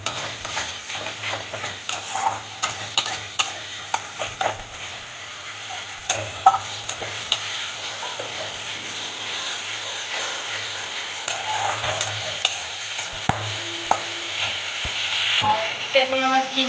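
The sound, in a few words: onion and tomato frying in a pan with cumin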